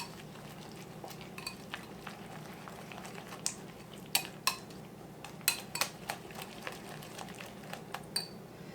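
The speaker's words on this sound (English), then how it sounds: "I'm going to mix that around" Potato tart ingredients being mixed in a bowl make soft, irregular clinks and taps of a utensil against the dish, some sharper than others, over a quiet background.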